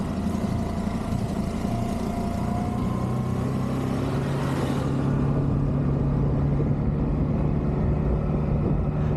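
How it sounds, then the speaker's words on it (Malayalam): A Hero Destini 125 Xtec scooter being ridden, its engine running as a steady droning hum with constant wind-like roar, close and continuous throughout. "അങ്ങനെ ഏറ്റവും പുതിയ ഹീറോ ഡെസ്റ്റിനി 125നെ നമ്മൾ ഓടിച്ചുകൊണ്ടിരിക്കുകയാണ്."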